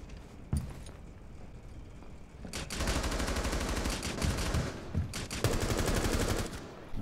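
Gunfire in Rainbow Six Siege, a few isolated shots first, then sustained loud automatic bursts from close by with brief gaps.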